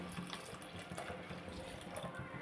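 Cooled boiled milk pours steadily into a pan for a carrot and sago payasam, a soft continuous liquid stream at close range with no talking.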